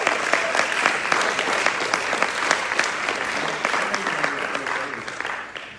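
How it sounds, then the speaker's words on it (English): A seated crowd gives sustained, dense applause for the Landrum High School baseball team, state champions, at a press conference. The clapping runs steadily for about six seconds before tapering slightly at the end. "So let's give them a round of applause."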